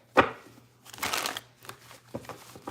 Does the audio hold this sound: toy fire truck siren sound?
no